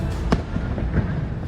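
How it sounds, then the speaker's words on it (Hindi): New Year 2025 fireworks over Marina Bay Sands, Singapore, pop and crackle in quick bursts, a sharp bang followed by scattered cracks, fairly close against a dense rumbling background. "मरीना बे सैंड्स पर जमकर आतिशबाजी की गई।"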